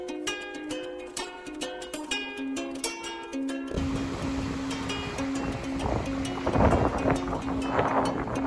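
Surf and wind on rocky Promenade Beach in Pondicherry: a brief tonal passage opens, then a steady, loud rushing wash of waves with wind buffeting the microphone fills the rest, with no talking.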